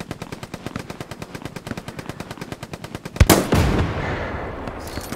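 Rapid machine-gun fire in Hell Let Loose, a steady stream of evenly spaced shots for about three seconds, then a single loud, close blast followed by a fading rumble and debris.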